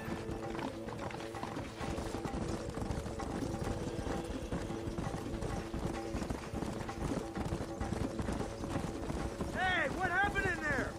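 Hooves of several horses gallop in Red Dead Redemption, a steady clip-clop rhythm under music and game ambience, with a short vocal burst near the end.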